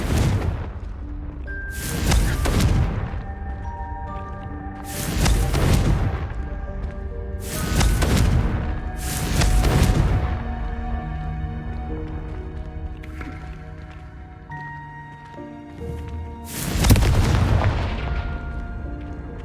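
Spell explosions from Confringo in Hogwarts Legacy: several loud booming blasts at irregular intervals, each with a long ringing tail, layered over sustained tonal music.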